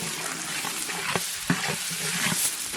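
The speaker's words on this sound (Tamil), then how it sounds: "பச்சை மிளகாய் நல்லா வதஞ்சிச்சு வெங்காயம் சேர்த்துக்கலாம் நல்லா வதக்கலாம்" Green chilies and onions sauté in an oily pan for masal vada, giving a steady sizzle with a few sharp stirring scrapes and clinks of the spatula, close and moderately loud, with no talking.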